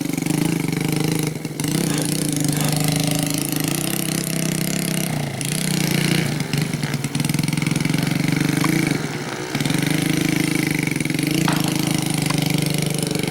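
A trail motorcycle used as a paddy-field taxi, hauling rice sacks through the field and over small straw-covered ditches, runs with a steady, loud engine drone throughout, briefly dipping a few times.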